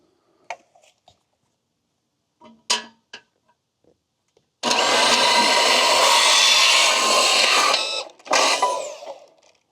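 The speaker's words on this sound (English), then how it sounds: "I'm going to go ahead and cut this with our bandsaw." A bandsaw cuts through an aluminum fence post in one loud, sustained grinding run of about four seconds, then a short second burst, after a few faint clicks and taps.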